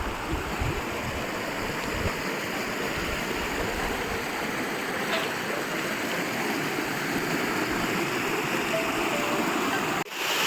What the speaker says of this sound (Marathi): या चावलीच्या धबधब्यावर आपण पोचलेलो आहोत